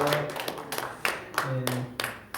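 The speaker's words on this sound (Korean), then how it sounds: "박수로 격려해 주시겠습니다." Scattered clapping from a meeting audience, sharp individual claps rather than full applause, heard close under ongoing speech.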